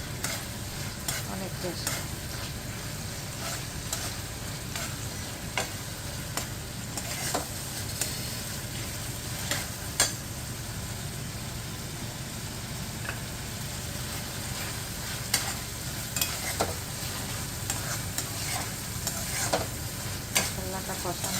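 Spice paste frying in a pan ahead of a taro, pumpkin and Malabar spinach curry: a continuous close sizzle broken by frequent scraping clicks of stirring, with a short spoken remark early on.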